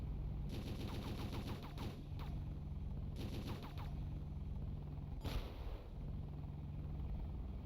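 Rapid bursts of gunfire from the GBA video game Super Army War, several quick rattling volleys in short clusters over a steady synthetic game tone, with one sharper blast near the end.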